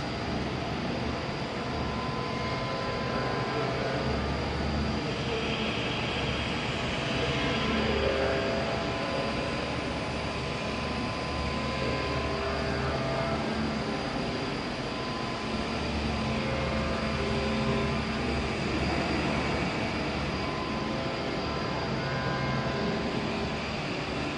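A small civil helicopter engine runs with a steady, droning roar throughout, dense and loud with a faint whine on top and no talking.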